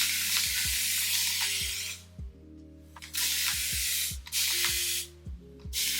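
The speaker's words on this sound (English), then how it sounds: "Spray bottle with water." Water spray bottle misting hair in repeated bursts, a loud close hissing spritz with brief pauses between squeezes and low clicks of the trigger, no talking.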